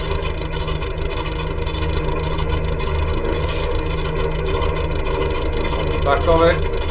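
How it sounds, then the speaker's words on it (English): A Fordson Flathead 4 tractor engine, semi-restored with old grey red wheels, runs with a steady loud chugging drone at a farm show day, with voices talking over it. "start the tractors up. So the first tractor we get to is the Fordson Flathead 4."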